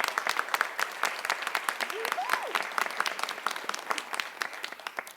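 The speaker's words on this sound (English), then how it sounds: "Let's give them a round of applause." Audience applause at a Louisville city event on eviction prevention funding, a steady patter of many hands clapping throughout with scattered voices and a brief whistle-like cheer rising over it.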